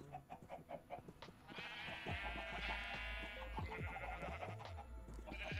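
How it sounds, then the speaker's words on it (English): Minecraft sheep bleat repeatedly in a video game, wavering cries that overlap across several seconds after a run of short clicks, with no talking. "Minecraft sheep."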